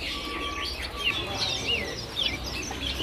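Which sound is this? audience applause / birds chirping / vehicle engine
birds chirping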